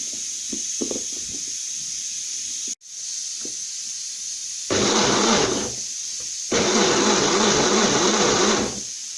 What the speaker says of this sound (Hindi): तो मैं ब्लेंड करके आपको दिखाता हूँ।